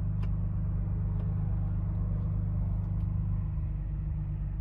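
2023 Ford Bronco Raptor 4x4 engine idling, a steady, close low-pitched rumble with an even hum and a few faint ticks, continuous throughout, no voices.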